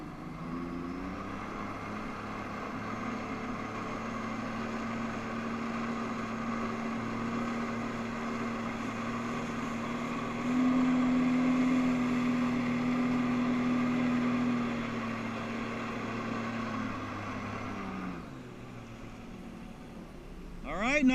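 A personal watercraft engine powers a FlyBoard in a steady, droning hum. The drone swells briefly as the throttle rises, then fades at the end, with occasional voices over it.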